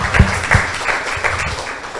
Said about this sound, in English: Please give both teams a big round of applause.